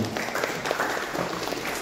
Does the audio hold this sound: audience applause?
yes